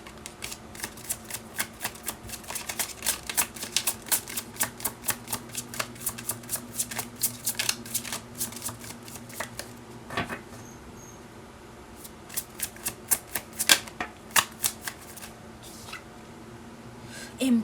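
Tarot cards are shuffled by hand in a fast run of crisp riffling flicks, repeated rhythmically up close, pausing briefly midway before another burst of shuffling resumes.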